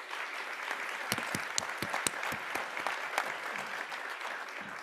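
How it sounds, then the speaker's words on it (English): Applause at the 34th annual Shingo Conference awards gala, a steady spread of clapping for the event team with a few sharp individual claps standing out, moderately distant and fairly quiet throughout. "maybe a round of applause for all of them"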